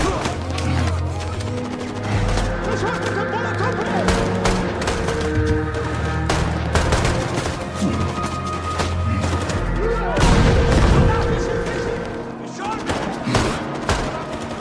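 Battle gunfire, with rapid bursts and scattered shots over rumbling thumps and explosions, loud and continuous, with a heavy blast near the end.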